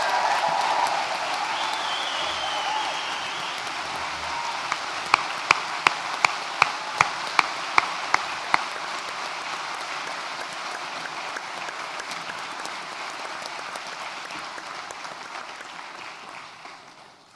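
A large audience at a college graduation ceremony applauds continuously in a dense, even wash of clapping, with a few sharp, louder claps standing out near the middle before the applause slowly fades at the end.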